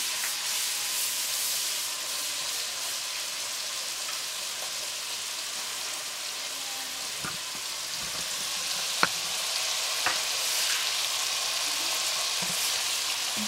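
Chopped onions sizzle and fry steadily in a hot pan for cowboy stew, a continuous close hiss with a few faint clinks of stirring, no voices.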